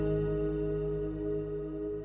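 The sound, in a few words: Eventide Blackhole reverb tail with modulation depth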